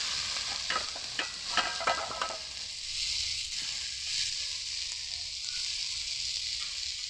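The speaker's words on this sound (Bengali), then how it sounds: "দিয়ে এবারে সব একসাথে ভালো করে মিশিয়ে নেব।" Green chili, ground poppy seed and cashew paste stirred in a pan for a raw banana kofta curry, a bright steady sizzle with several quick spatula scrapes early on, then a softer continuous frying hiss, no talking.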